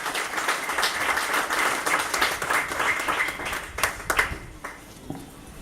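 Warm applause from an audience at an event at an auberge, steady dense clapping that swells and thins toward the end, with a few louder individual claps standing out.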